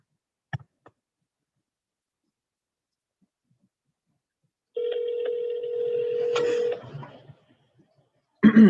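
Outgoing call to a property seller: a steady ringback tone sounds for about two seconds through the phone line, with a clear start and stop between short handling clicks before someone speaks.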